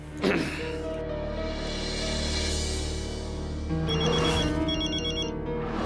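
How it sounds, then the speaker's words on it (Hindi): A mobile phone rings indoors in a comedy TV scene, its electronic ringtone repeating as a bright tonal melody, loud and close, with no one talking over it. "मैं अंजलि मेहता का फोन स्विच ऑफ करना ही भूल गई।"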